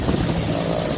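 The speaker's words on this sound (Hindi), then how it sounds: "मतदान कर्मियों को ले जाने के लिए वायुसेना का MI-17 हेलीकॉप्टर इस्तेमाल किया गया।" An Indian Air Force Mi-17 helicopter carrying polling staff gives a close, loud, continuous rotor and engine drone, with no talk.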